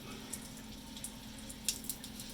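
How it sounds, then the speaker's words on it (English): Motor cooling water drains from a boat's engine into the bilge during winterizing on a lake, a faint, steady trickle with a few soft drips over a low background hum. "let it drain into the bilge"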